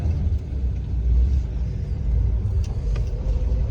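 A 1957 Chevy engine idles with a deep, continuous low rumble, heard from inside the car, steady and fairly loud with no talk.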